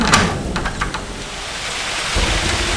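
Rain falls at night as a steady broadband wash, with a few gusty bursts and low rumbling early on, close to the microphone and no talking.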